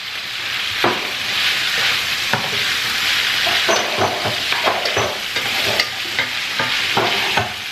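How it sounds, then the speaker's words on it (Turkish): Spices frying in vegetable oil in a pan, a steady loud sizzle broken by repeated scraping stirs at an irregular pace, close up and without speech. "Yağ koydum. Sıvı yağ koydu. Baharatları sen ekle."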